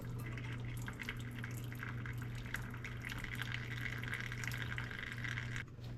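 Hot water is poured from a pot while making macaroni and cheese, a steady splashing stream with a constant low hum beneath, running evenly before cutting off near the end.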